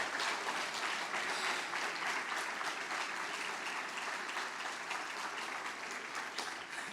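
A church congregation at an evangelical service applauds continuously, a sustained wash of clapping heard at a moderate distance throughout.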